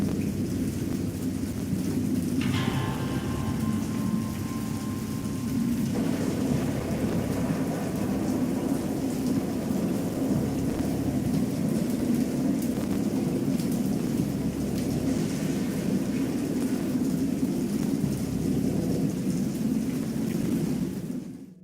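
Steady heavy rain pours throughout with a deep rumble of thunder underneath, a brief tonal chime appearing early on; no voices. A video game thunderstorm from Dagon, on PC.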